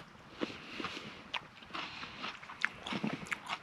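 Crunchy green pepper bitten and chewed outdoors at a roadside campsite in a national forest, several sharp crisp crunches spaced irregularly, close and fairly faint with no talk.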